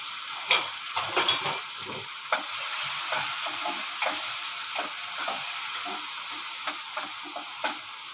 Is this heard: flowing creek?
no